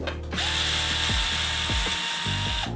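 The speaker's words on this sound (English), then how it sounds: "All right, so now we're gonna unscrew the bottommost slot here." A powered screwdriver whirs and ratchets as it unscrews the bottom expansion slot cover on a pink Y70 gaming PC case, with repeated short clicking bursts, close and clear, with no talk.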